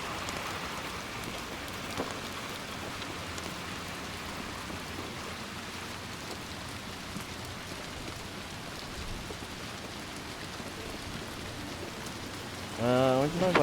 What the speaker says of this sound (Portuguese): Onde nós vai nessa chuva?